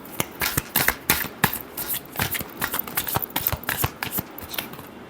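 Tarot cards being shuffled by hand: a rapid run of crisp riffling flutters and soft slaps that repeats close up for several seconds, with no voice over it.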